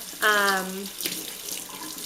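Water runs from a tap to rinse face painting sponges, a steady hiss of flow starting with a brief tonal squeak from the faucet and continuing close and even.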